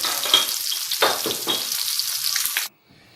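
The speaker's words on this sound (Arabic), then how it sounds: "هحمر اللحمه كده، حطيت معلقه سمنه وحط عليها معلقه زيت" Meat fries in a pan of ghee and oil, a bright continuous sizzle with stirring bursts and crackles for a few seconds before cutting off abruptly into near silence.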